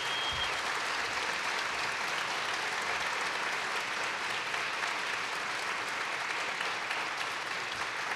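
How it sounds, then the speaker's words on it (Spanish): Steady, dense applause from a large audience at an event honoring camera operators and a production crew, sustained and fairly loud throughout with no voices over it. "pido un fuerte aplauso para ellos y todo el equipo."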